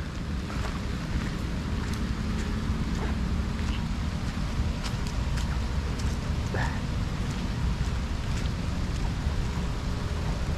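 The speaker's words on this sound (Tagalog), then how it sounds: "Bukso-bukso yung ulan." Steady on-and-off rain from passing typhoons falls over a Philippine vegetable garden of chili and eggplant, a constant broadband hiss with wind-like rumble and scattered sharper patters throughout.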